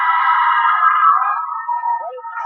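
The High-Q quiz show question jingle sounds as a single bright, electronic tone sequence lasting about two seconds, clear and alone, ending with a short falling flourish.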